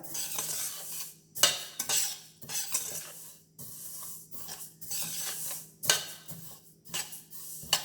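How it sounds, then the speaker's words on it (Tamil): Black sesame seeds dry-roasting in a hot pan for til laddu. Repeated scraping and rattling stir strokes sound close, separated by short quiet gaps, with a faint crackle underneath and no voices. "கொஞ்சம் எள்ளு வாசனை வர வரைக்கும் வறுக்கணுங்க நம்ம"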